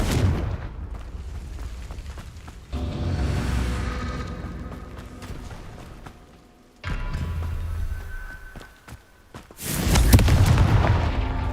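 Spell blasts from the Confringo fire curse in the video game Hogwarts Legacy, loud booming bursts that roll out and decay, several in succession with a big detonation near the end, no talk over them.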